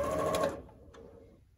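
A sewing machine stitching a quilt block runs in a short, close burst, then stops abruptly, leaving a faint fading hum and a soft click.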